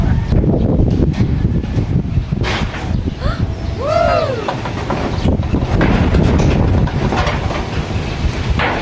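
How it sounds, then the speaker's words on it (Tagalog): Strong wind roars steadily close to the microphone, a broad continuous rush with low buffeting, while a brief rising whistle-like tone cuts through midway. "Grabing hangin talaga, lamig oh."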